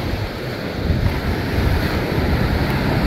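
Surf washing steadily onto a pebble beach, a continuous broadband rush with wind buffeting the microphone, loud and close throughout with no distinct individual wave breaks.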